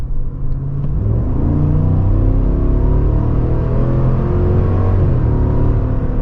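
A 2023 Cadillac Escalade's 6.2-liter V8 pulls hard under acceleration, a loud, deep, continuous engine roar with rising harmonics heard from inside the cabin, no talking.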